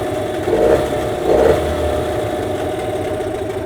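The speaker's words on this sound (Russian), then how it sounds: "чтобы мотор работал на холостых немного поровнее" Hangkai outboard motor idling, a steady mid-pitched chugging hum at close range with two brief swells in revs early on, then settling to an even idle without talk.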